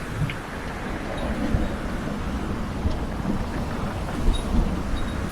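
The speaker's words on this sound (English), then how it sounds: "The amount of wind is just overwhelming everything, including hydro back there." Strong wind roars over a sailboat in bad weather, a dense, steady low rumble of gusts and microphone buffeting that lasts throughout, loud and close, with no voices.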